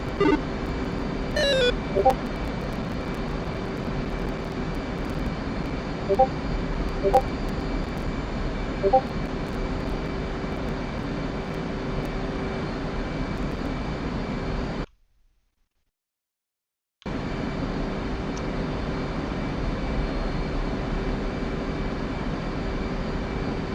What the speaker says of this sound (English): Those F-16s zipping along down there with their external fuel tanks.